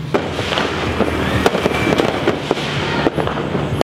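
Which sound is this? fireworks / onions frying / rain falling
fireworks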